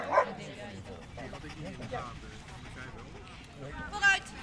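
A German shepherd dog barks and yips close by, in short bursts under ongoing talk.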